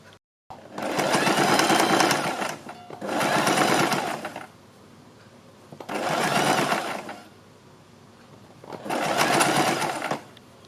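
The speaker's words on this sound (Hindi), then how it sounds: "यहाँ से इस जगह से सिलाई लगानी शुरू करेंगे और ऊपर तक इसको सील देंगे" A sewing machine stitches a neck strip on a kurti in four loud, steady whirring bursts separated by short quiet pauses, heard close up with no talking.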